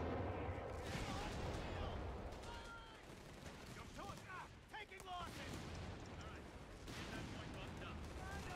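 Anti-tank guns and rifle fire in the video game Company of Heroes 3, a dense, continuous battle din of booming shots and gunfire, with a voice talking over parts of it.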